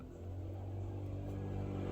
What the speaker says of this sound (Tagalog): Parang mayroong sasakyan na nakahinto dyan sa tabi.